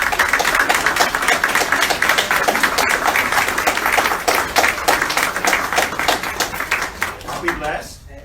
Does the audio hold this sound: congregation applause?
yes